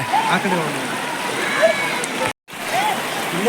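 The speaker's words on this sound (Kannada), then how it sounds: "ಅಷ್ಟು ಸ್ವಲ್ಪ ಫಾಸ್ಟ್ ಆಗಿ ನೀರು ಹರಿತಾ ಇದೆ" Fast-running stream water rushes and gurgles steadily close by, with a brief dropout partway through and faint speech-like tones mixed into the flow.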